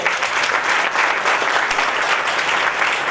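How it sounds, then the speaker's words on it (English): Audience applause for Fadi, a dense, steady wash of many hands clapping at close range, sustained evenly throughout without any voices. "So let's give him a round of applause too."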